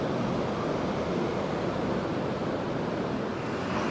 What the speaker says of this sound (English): ominous, that sea, you know, with the wind and everything